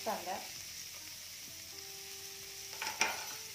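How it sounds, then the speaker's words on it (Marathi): Onion sautés in a pan for masala macaroni, a low steady sizzle broken by a couple of brief stirring scrapes near the end. "कांदा छान सॉफ्ट होईपर्यंत भाजून घ्यायचा"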